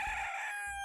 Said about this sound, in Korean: 어디선가 닭 울음소리가 들렸다.